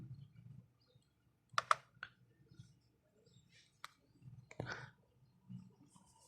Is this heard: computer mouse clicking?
yes